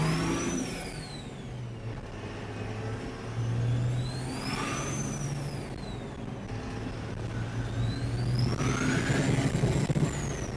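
A Dodge Ram truck running a compound turbo setup hums and revs, its engine note rising and falling in slow sweeps with a high turbo whine gliding above it.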